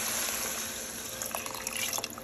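Hot water from a kitchen faucet pouring into a cooking pot, a steady hissing splash with small sloshing bursts near the end, close and continuous with no talk.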